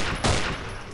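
A burst of gunfire from the horror game Afraid of Monsters, one loud shot followed by a decaying rattle, close and alone.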